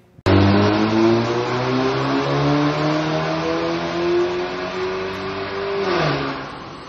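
A Mercedes CLA250 C118 with a stage 2 remap runs on a Dynojet dyno. The engine revs loudly and steadily climbs in pitch for about six seconds, then drops off sharply.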